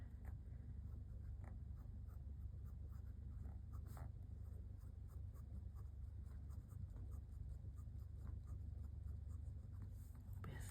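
A Lady Sheaffer Paisley fountain pen made in Australia scratches across paper in a quiet room, soft continuous nib strokes with small ticks over a low steady hum.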